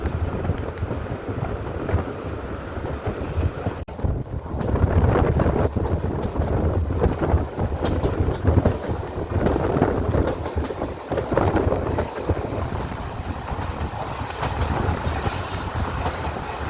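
A passenger train on the Tenkasi to Kollam line runs steadily for the whole stretch, with a loud continuous rumble and wheel clatter heard from inside the carriage and buffeting wind across the microphone. No one speaks.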